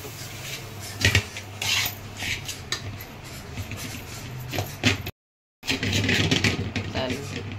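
A spoon scrapes and knocks around a kadai as jaggery is stirred in to melt, with repeated close metallic clatter and rubbing, a brief dropout partway through, and voices faintly in the background.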